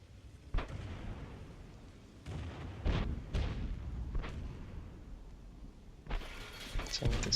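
Tank cannon shots in World of Tanks, several heavy booming blasts spaced a second or so apart, followed by a louder cluster of impacts near the end, over a low rumbling engine bed.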